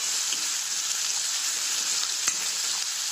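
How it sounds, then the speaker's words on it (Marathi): Onions fry over high heat in a pan, giving a steady bright hiss and sizzle throughout with a faint clink of stirring, moderately quiet and close, with no voices. "आता हे छान गॅस मोठा करून भाजून घ्यायचे कांदे"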